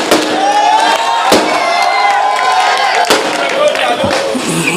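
Sharp firecracker bangs burst out several times over a loud, steady crowd din with shouting voices at an outdoor election rally in Malegaon, India.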